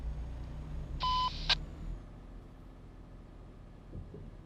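A truck simulator game sounds a short two-tone electronic alarm beep over a low engine hum, followed by a brief bright ping, then the steady engine drone continues alone.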